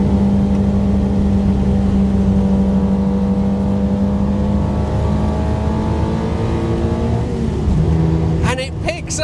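A 1968 Honda S800 sports car engine holds a steady high-pitched revving drone while driving, its pitch climbing slightly near the end, with someone talking over the engine throughout.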